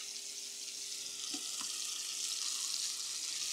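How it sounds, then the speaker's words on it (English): Lamb kebabs going into hot olive oil in a pan, a steady hissing sizzle with a couple of light knocks and a faint hum underneath, no voices. "You want to hear that sizzle."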